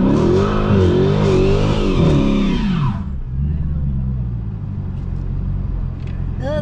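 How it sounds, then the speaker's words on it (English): A widebody Dodge Challenger's engine roars loud and close as the car accelerates, a deep rising rev that cuts off abruptly partway through, leaving a lower idling rumble under faint background noise. "now hit the gas"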